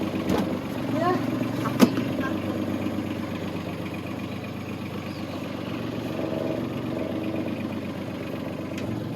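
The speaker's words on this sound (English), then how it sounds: "thank God the engine started first time" A boat's engine idles steadily after starting, a close, even mid-pitched chugging rumble that runs throughout, with faint background sounds and a brief knock early on.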